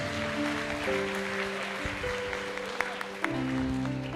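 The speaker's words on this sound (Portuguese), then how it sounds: "aplauda bem forte ao nome de Jesus." Congregational applause during a church worship service, a steady wash of clapping that carries on beneath sustained organ or keyboard chords throughout.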